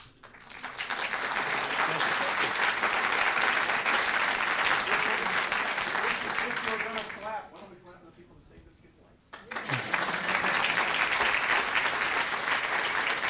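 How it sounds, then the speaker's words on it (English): An audience claps after a talk on the ethics of parents refusing a solid organ transplant. The applause runs loud and dense for about seven seconds, fades briefly under a voice, then swells again just as strongly. "And I want to clap for all of you being here"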